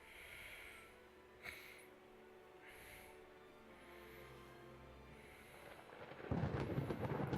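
A thunderstorm rumbles in the naval warfare game Ultimate Admiral Dreadnoughts: low, soft rolling thunder with hissing wind gusts, ending in a louder, nearer crash of thunder.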